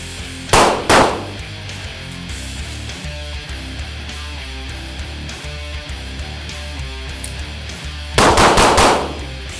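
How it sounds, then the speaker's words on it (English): Pistol gunshots during a one-handed magazine change drill on a shooting range: a quick pair of loud nearby shots, a quiet stretch of handling and the reload, then another rapid burst of close shots. "there's no reason you can't shoot, come back to the holster, make your mag change"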